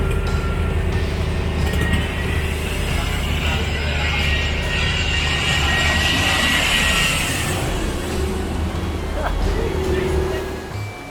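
A plane passes high overhead near the beaches of the Philippines, a steady, broad engine roar that swells and holds for several seconds, loud and continuous over surf and wind.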